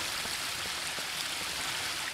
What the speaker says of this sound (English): What about the waterfall?